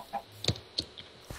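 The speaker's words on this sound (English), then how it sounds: "Hi, chicken. Thank you, chicken." Chickens in the Minecraft video game cluck in short, separate bursts, a few quick clucks spread over a second or so, clear and close with no talk.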